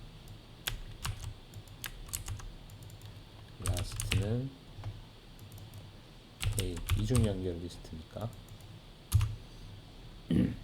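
Bursts of quick keyboard clicks tap away at close range, broken up by a person talking in between the typing runs.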